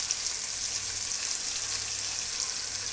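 Potatoes and spinach fry in a pan with a steady, bright sizzle that holds evenly throughout, close up and without voices.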